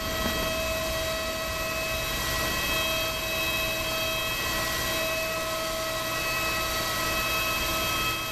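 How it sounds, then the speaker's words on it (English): Brake cooling fans whir steadily on the wheels of a Fenix Airbus A320 in Microsoft Flight Simulator 2024, a constant even hum with thin whining tones over soft background noise, moderately quiet and unbroken. "So those fans are going to be whirring away there."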